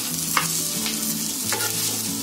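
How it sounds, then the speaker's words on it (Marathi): Masala paste frying in oil for village-style chicken cooked for a crowd, a steady sizzle broken by a few scraping stirs of the spoon, close and loud with no voices. "आता हा मी पुन्हा त्याच्यामध्ये टाकून पुन्हा फ्राय करणार"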